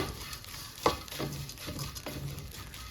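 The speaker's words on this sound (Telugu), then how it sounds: "ఇవి చాలా తొందరగా అండి అందుకని మనం తిప్పుతూనే ఉండాలి ఇవి" Dried prawn heads fry in a pan while being stirred, a low steady sizzle punctuated by several scraping strokes and light clinks of the utensil.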